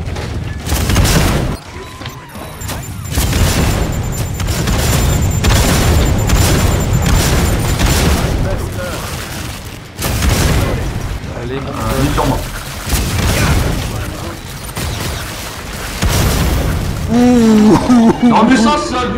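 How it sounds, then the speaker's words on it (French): Rockets explode in Killing Floor 2 co-op combat, a dense run of loud booms and gunfire bursts rumbling throughout, while players talk over the chaos. "tu te l'es pris en pleine poire là la roquette"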